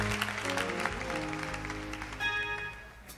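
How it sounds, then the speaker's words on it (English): A church congregation applauds with hand claps during a service, the clapping steady and full over sustained musical tones from the sanctuary. "Will you please accept him by your hand claps"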